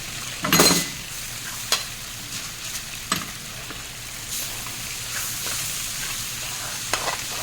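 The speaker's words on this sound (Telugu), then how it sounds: "ఇప్పుడు ఇవి వేసి బాగా కలుపుకోవాలి" A mutabbaq filling frying in a pan while spices are stirred through it: a steady close sizzle with sporadic scrapes and clinks of the spoon against the pan, no talk.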